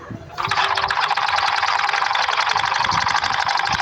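A sewing machine stitches along a trouser fold, kicking in after a brief quiet moment into a rapid, steady mechanical chatter that runs loud and close to the end.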